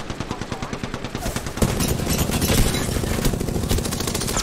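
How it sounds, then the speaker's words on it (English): Rapid automatic gunfire in the video game Apex Legends, opening with steady rhythmic shots that swell into a denser, louder barrage of overlapping fire from several weapons. "The enemies are shooting at me."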